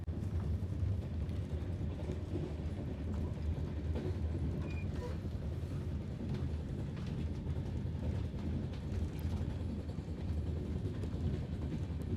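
A train runs along its rails, heard from inside a carriage as a constant rumbling roar with faint rattling and clatter, moderately loud and steady for the whole stretch.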